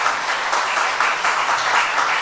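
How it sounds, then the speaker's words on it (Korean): A church congregation claps together during a Sunday worship service in Korea, steady and fairly close, without speech over it. "하는 마음으로 함께 박수로 함께 해주시기 바랍니다."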